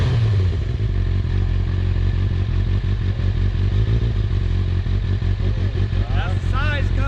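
A motorcycle with a Yoshimura pipe idles and warms up close by, a steady loud rumbling throb with clattering pulses throughout, while people talk over it.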